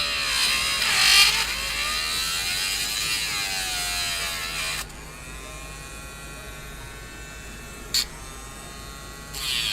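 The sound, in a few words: Dremel rotary tool grinding out a model locomotive fan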